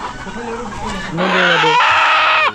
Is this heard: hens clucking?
yes